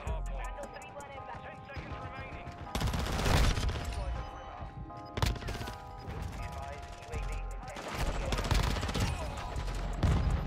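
Gunfire in the Call of Duty Modern Warfare 2 video game, with bursts of automatic fire and sharp shots alongside loud impacts and crashes, some cracks close and hard, others sustained rattles.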